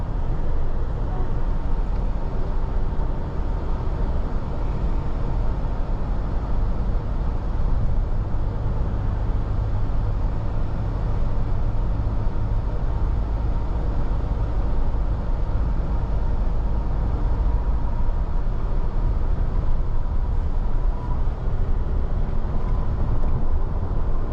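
Steady low road rumble and hum inside a 2024 Lexus TX 350 Premium on the move, constant and even throughout with no talking.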